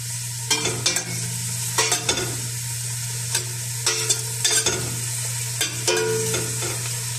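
Onion sautéing in oil for macaroni with vegetables: a steady sizzle runs throughout, broken by repeated scraping strokes of a spatula stirring in the pan at a close distance, with a constant low hum beneath.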